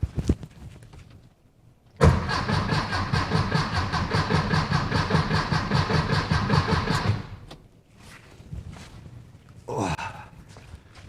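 A 1964 VW Beetle engine fitted with dual EMPI carburetors cranks over for about five seconds in a steady loud churning whir without catching, followed by quieter shuffling and brief noises.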